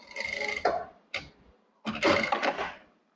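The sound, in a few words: presser foot lifting on Jack A4 sewing machine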